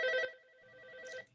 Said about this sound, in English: Whoever has that phone, can you turn it down